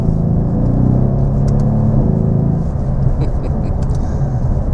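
A Mercedes AMG speeds up on a snowy road, a steady engine drone and tire rumble rising in pitch, heard from inside the car with a voice talking over it.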